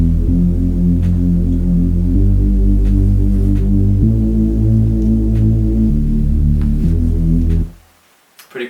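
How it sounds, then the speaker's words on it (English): Reese bass synth patch layered with a sine wave, following a chord progression in steady sustained notes that shift pitch every couple of seconds, loud and alone, cutting off near the end. "So it's a Reese bass from Silent."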